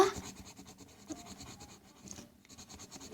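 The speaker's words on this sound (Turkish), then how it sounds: "Şöyle üstlerinde kurşun kalemle şey yapayım." A pencil scratching across paper while writing on homework, heard as soft, quick, close rasping strokes with brief pauses.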